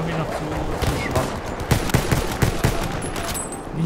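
Gunfire in Battlefield 1 on a Conquest map, with rapid bursts and single shots cracking near and far over continuous battle noise, growing busier toward the middle.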